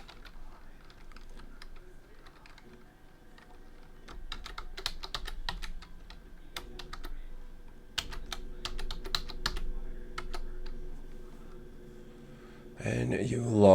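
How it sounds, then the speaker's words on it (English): Computer keyboard keys clacking in irregular bursts of typing while a password is entered at a PC, close and fairly quiet, with a louder rustle at the end. "we type in our passwords"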